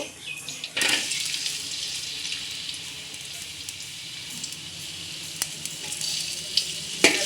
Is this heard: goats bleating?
no